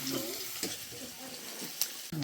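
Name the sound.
onion frying in oil in a pan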